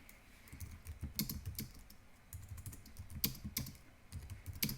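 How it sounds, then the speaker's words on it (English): Fingers typing on a computer keyboard, rapid clusters of sharp, close key clicks in uneven bursts separated by short pauses. "You can then type whatever you want to type."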